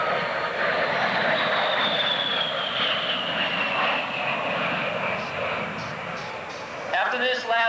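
An A-10 attack jet turning for a strafe attack pass at an airshow, its loud engine roar sweeping past with a slowly falling whine before fading into the distance.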